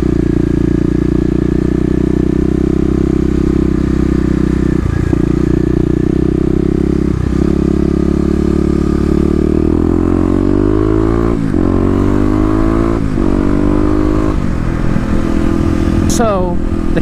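Kawasaki KLX dirt bike engine droning steadily and loudly up close while riding, with pitch rising and falling through gear changes, and someone talking over it.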